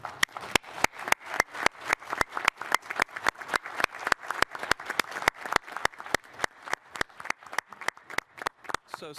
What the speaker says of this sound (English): I'm going to lead a round of applause for you and appreciate it